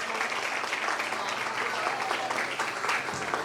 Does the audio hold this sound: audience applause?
yes